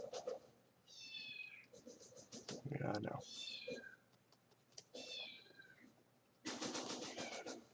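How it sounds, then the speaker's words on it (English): A pet cat meows repeatedly indoors, several drawn-out calls close by, alternating with a person talking over it. "Please forgive my cat in the background."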